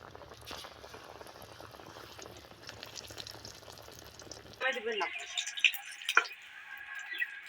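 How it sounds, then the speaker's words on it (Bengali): Sliced eggplant (brinjal) frying in oil in a pan, a soft steady sizzle with scattered pops, then a sharper louder crackling burst near the end as the pan is disturbed. "বেঙেনা ফ্রাই হয়ে গেল।"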